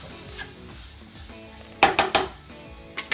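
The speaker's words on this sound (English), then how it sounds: "everything has to get nicely fried in the coconut oil" Chili, coriander, curry leaves, ginger, garlic and onion frying in coconut oil in a pan, a soft sizzle under sharp clinks and scrapes of a spoon stirring against the metal.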